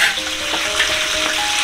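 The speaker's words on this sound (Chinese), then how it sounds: "开始煎鱼了吧，老贾。" Fish fries in a pan over low heat with ginger and chili tucked inside, giving a loud, dense, steady sizzle up close with no talking.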